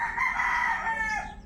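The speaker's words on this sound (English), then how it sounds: "greeting from the roosters" Several roosters crow in the Philippines, one long drawn-out call loud and close, with another overlapping it and steady background noise beneath.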